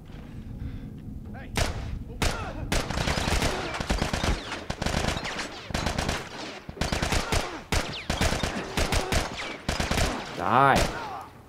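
Rapid bursts of gunfire in The Last of Us, dense automatic shots and heavy thuds packed close together over several seconds, loud and continuous with brief gaps, ending with a rising whine.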